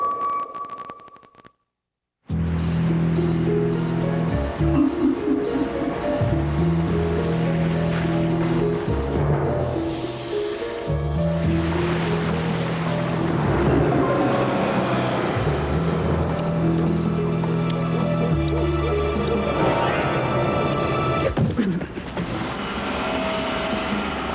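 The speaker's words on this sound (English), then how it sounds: "The Accord V6 Coupe from Honda. It's one powerful car." A Honda Accord V6 Coupe engine drives hard, its loud revving rising and stepping through shifting tones for about twenty seconds after a brief beep and a moment of silence.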